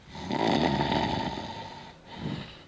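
A voice imitates snoring: one long, rasping inhaled snore, a short pause, then a second shorter snort, close and fairly quiet.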